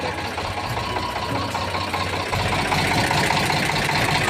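A used Eicher 368 tractor's diesel engine idles steadily close by, a continuous low rhythmic knocking chug that grows slightly louder partway through, with no talk over it.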